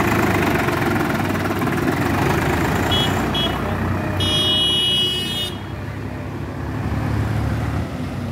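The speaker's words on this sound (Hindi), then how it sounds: "तो भाई जी ट्रैक्टर हमारा चल दिया दोस्तों" Swaraj 744 XT tractor with a heavy load of bricks at a brick kiln pulling away, a steady near engine drone with a short high beeping tone partway through, easing slightly toward the end.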